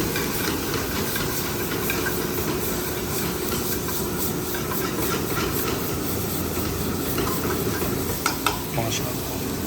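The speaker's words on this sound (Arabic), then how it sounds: "الآن نضيف طماطم" Tomatoes going into a hot pan and being stirred while cooking a breakfast dish, giving a steady, loud, broad hiss of sizzling that runs unbroken throughout, with a couple of sharper clinks near the end.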